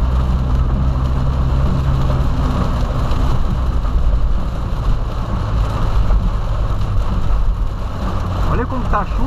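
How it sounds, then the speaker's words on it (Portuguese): Heavy rain heard from inside a Volkswagen Polo, a dense, steady roar of downpour and road noise filling the cabin, loud and continuous throughout. "Olha como tá a chuva, cara."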